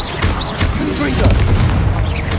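Confringo blasting spells bursting in Hogwarts Legacy, a run of loud, dense booms and crackling blasts rolling through the whole moment, with a voice shouting spell names over the top.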